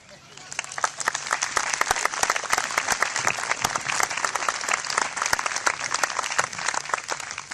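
An audience at a 2011 commencement ceremony bursts into warm, sustained applause for speaker Howard Yermish, a dense wash of many hands clapping that swells quickly and holds steady throughout.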